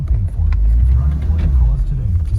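A 2006 Porsche 911 pulls away up the road, its engine a steady low rumble heard from inside the cabin, with a few brief clicks and knocks over the drone and no talk.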